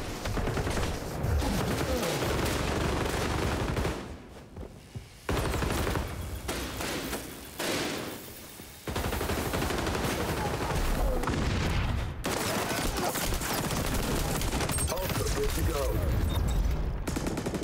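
Rapid automatic gunfire from a weapon in the shooter game XDefiant rattles in long, loud bursts with brief pauses, dense and close, mixed with game effects and occasional talk.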